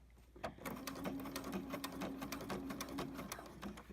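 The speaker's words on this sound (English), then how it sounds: "I'm back stitching here because I'm not sewing the whole thing." A sewing machine back stitching the binding on a cushion hums steadily up close, its rapid needle strokes forming a continuous mechanical whir.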